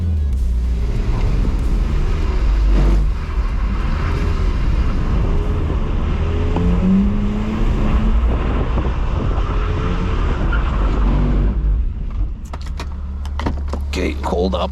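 BMW E46 320i driven in rain on a track, its engine droning steadily and loud from inside the cabin with wet road and wind noise throughout, then easing off near the end; people talk over it.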